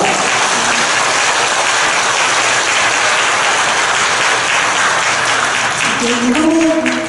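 An audience in a church applauds a priest after an Advent lecture, a dense, continuous wash of clapping that stays loud for several seconds, with a faint voice emerging near the end.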